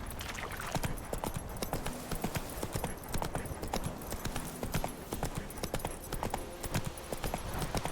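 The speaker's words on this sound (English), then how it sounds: "Whoa there, Roach." Horse trotting in the video game Witcher 3, a steady, close clip-clop of hooves on hard ground in an even rhythm throughout, with faint ambient sound beneath.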